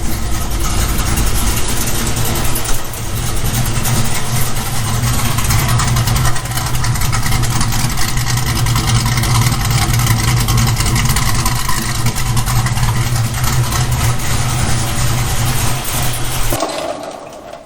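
A Chevy Nova V8 with a freshly swapped cam and cylinder heads idles steadily and loudly up close, a deep continuous rumble with a slight lope, holding for about sixteen seconds before cutting off abruptly.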